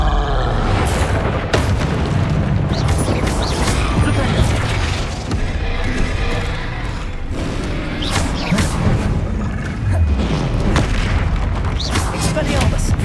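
Blasting spell explosions go off in the PS5 game Hogwarts Legacy: repeated heavy booms and thuds within a dense, loud wash of combat sound effects.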